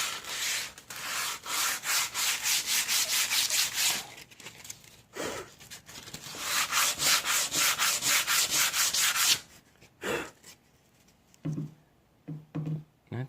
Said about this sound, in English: So we're also going to tack cloth all of this before we put our Cetol on there.